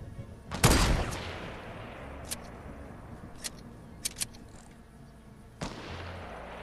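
Sniper rifle gunfire in the video game Fortnite: one loud, sharp shot up close, then several fainter distant cracks spread over the following seconds and a last clear shot near the end.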